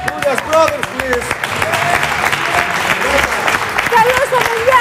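A television studio audience applauds as a band is welcomed onto the show, a loud, sustained wave of clapping with a host's voice calling out over it.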